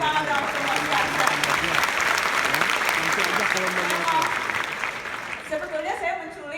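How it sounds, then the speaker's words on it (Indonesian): A live stage talk show audience in the Netherlands bursts into dense, sustained applause that fills the room at steady loudness, tapering slightly near the end, with a voice or crowd murmur mixed in. "Kasih tepuk tangan dong semua"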